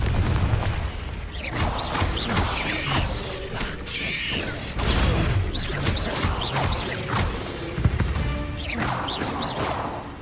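Confringo fire blast spell cast in Hogwarts Legacy, heard as booming bursts and whooshes over a dense, continuous bed of mechanical clanks and ratcheting game effects, loud throughout.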